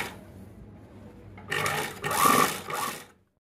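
A sewing machine runs three quick stitching bursts along the side seam of a puff sleeve blouse, a close whirring hum with brief pauses before falling silent.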